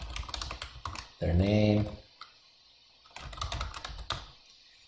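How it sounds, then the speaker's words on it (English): Quick clicking keystrokes on a computer keyboard while entering details into an online e-filing account, patchy and near, broken by a short tone and a spoken phrase in the middle before typing resumes. "So you'll type in their bar ID,"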